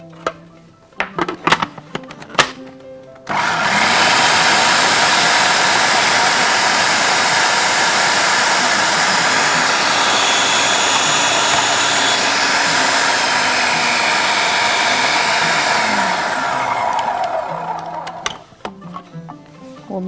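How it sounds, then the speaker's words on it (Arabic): An electric grinder runs steadily for about fifteen seconds as it grinds cocoa for date brownies, giving a loud, continuous whirring roar. Brief clicks and handling noises come before and after. "وبعد كده هجيب الكاكاو وهطحنه."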